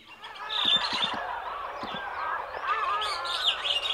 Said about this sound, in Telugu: ఆ కాకి అక్కడ ఏం చేస్తుంది?